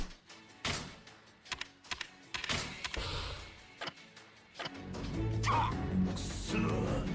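A dog barks in the video game Yakuza Kiwami, a few short, loud barks in quick bursts early on, then a steadier mix of game noise and clatter.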